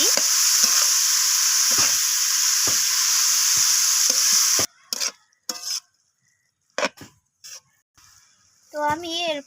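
Chopped cabbage is stirred with spices in a hot pan, giving a loud, steady sizzle with scraping strokes for about half the time, then short bursts of frying and clatter broken by quiet gaps and a voice.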